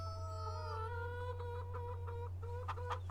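Chickens cluck in Farming Simulator 25 on a farm: a run of clear, close hen calls with rising tonal clucks and a few sharper squawks near the end, over a steady low hum.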